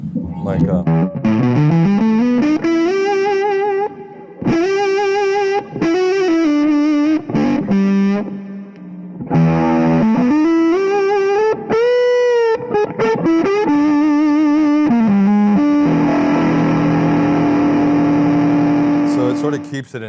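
An electric guitar plays blues phrases through fuzz pedals, a loud, saturated sustained tone with bending notes and long held chords, close and continuous, with no talk over it.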